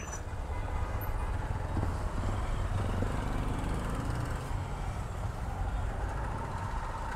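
A motorcycle rides at night on the road to Rangamati, a steady, loud engine drone with continuous road rumble and no speech.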